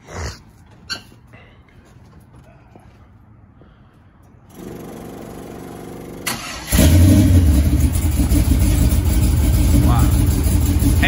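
A 1987 Chevrolet Monte Carlo SS on 24-inch wheels cranks and fires up after a quiet stretch, then settles into a loud, steady rumble close by, with voices and a dog barking around it.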